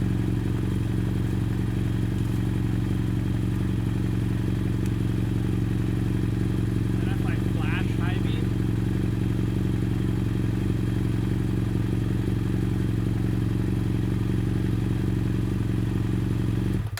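A BMW F800GS motorcycle engine idles steadily nearby, a constant low rumble that runs unbroken before cutting off abruptly at the end, with a brief clatter partway through.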